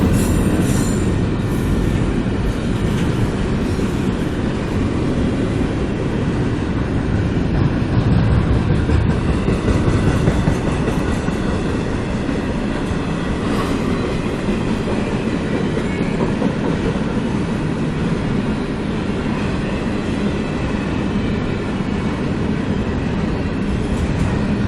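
A CSX freight train rolls past a station platform, a loud, continuous rumble with wheel squeal and clattering rail joints sustained throughout, very close.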